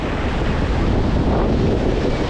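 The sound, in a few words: ocean waves crashing on shore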